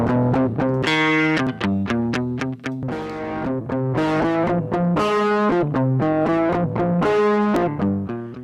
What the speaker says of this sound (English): We can go back to a single band distortion,